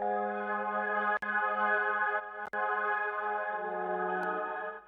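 A sustained, shimmering synth melody with a reverb effect, made in FL Studio for a dark R&B track, rings out with a washy, spacious tail, broken by a couple of brief clicks.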